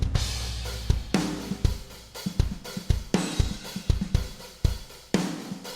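A full drum kit runs through a Waves 1176 Blue Stripe compressor at a 12 ratio with medium attack and release, punchy close hits in a steady groove, each transient clamped and bright, no talking.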